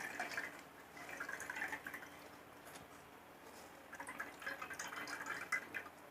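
Water draining out of freshly made chhena wrapped in a cloth for rasgulla, a soft steady trickle with dripping that swells and fades in two faint bursts.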